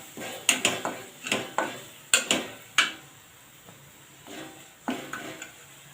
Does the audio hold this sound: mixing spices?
yes